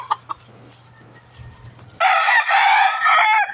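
A rooster crows loudly and close, a drawn-out call following a few faint clucks and quiet background murmur.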